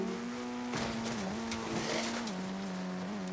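Car engine in a video game, a steady mid-pitched drone with slight pitch dips and a burst of scraping, tire-squeal-like noise in the middle.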